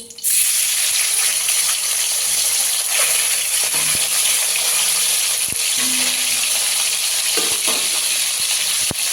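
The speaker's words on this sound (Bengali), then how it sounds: "বাকি মাছগুলো ভেজে নেব" Fish frying in hot mustard oil, a loud, steady sizzle and hiss with occasional clinks and stirring scrapes from the pan.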